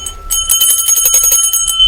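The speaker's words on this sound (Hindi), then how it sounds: "थोड़ा सा घंटी बजाएंगे।" A small handheld puja bell rings rapidly during evening worship for Laddu Gopal, a bright, close, continuous jingle of quick metallic strikes.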